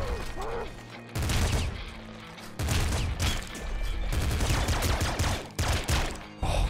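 Rapid gunfire bursts in the video game Nuclear Throne, dense mechanical rattling volleys in several blocks separated by brief pauses, loud and up front.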